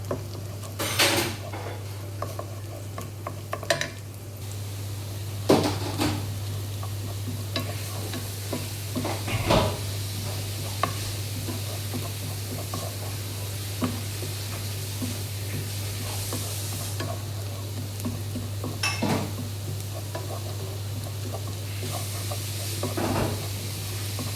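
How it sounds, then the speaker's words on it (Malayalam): Olive oil and butter sizzle in a pan on a stove, a soft, steady frying hiss over a low hum. Occasional utensil scrapes and clanks against the pan break through the hiss. "ഇതാ ആദ്യം ഒലിവ് ഓയിലും കുറച്ച് ബട്ടർ ഇടുക"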